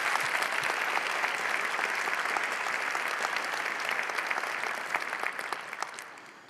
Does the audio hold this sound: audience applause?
yes